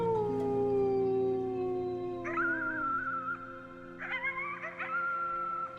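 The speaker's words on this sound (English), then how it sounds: "You howled at the moon" A long, drawn-out howl at the moon from the video game Before Your Eyes, sliding slowly downward, then more howling with rising, wavering pitches and a few yips, clear and close, with no talk.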